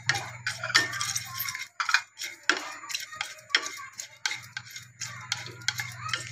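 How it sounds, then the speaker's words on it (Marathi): Poppy seeds and sesame seeds dry-roast in a kadhai over a low flame. A spatula stirs them in a string of irregular metallic clicks and scrapes, close by, over a low steady hum, with no talking. "आता मी ह्याच्यामध्ये खसखस भाजून घेते"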